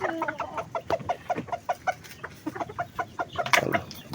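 Several chickens cluck repeatedly at feeding time, a steady run of short, close clucks and squawks with one louder burst near the end, and no talking.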